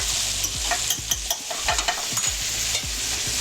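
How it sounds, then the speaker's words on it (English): Garlic browning in a pan gives a close, steady hiss of frying with light crackles and faint stirring, unbroken throughout. "Browning nicely. Okay, your garlic is browned."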